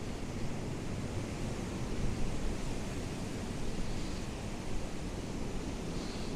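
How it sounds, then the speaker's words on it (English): Strong wind buffeting a wireless microphone outdoors at a former RAF airfield bomb store, a dense, steady roar of rumbling noise with no pauses. "It's extremely windy here."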